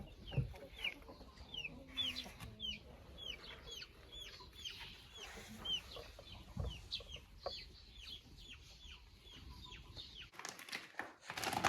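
Chickens, chicks, turkeys and turkey poults on a country dacha: repeated short clucks and chirps scattered throughout, fairly faint, with a few wing flaps and a louder rustling burst near the end.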